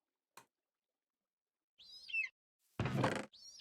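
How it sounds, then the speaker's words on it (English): Bird calls in a Minecraft game (Sevtech Ages modpack): a few short, high warbling chirps in two separate bursts, with a brief click and a louder broadband rustle between them, fairly close and clear with no talk. "Bird noises, bird noises."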